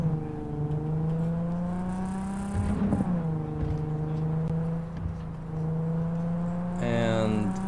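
A car engine in a video game, a steady droning whine that holds a constant pitch, dips briefly and climbs again near the end, with no talking over it.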